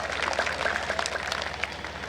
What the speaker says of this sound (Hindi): एक बार उनके लिए भी तालियां बजा दो।